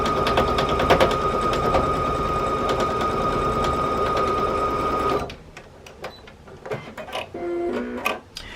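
A sewing machine stitching a quarter-inch seam on a scrappy quilt block runs steadily and loudly for about five seconds, then stops, leaving faint handling sounds and light clicks.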